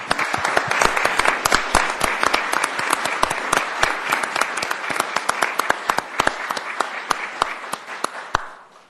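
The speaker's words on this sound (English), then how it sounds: "Let's give everybody a great round of applause." Sparse, distinct claps from an audience at a county commissioners meeting, crisp individual hand strikes repeating irregularly for nearly nine seconds and thinning toward the end.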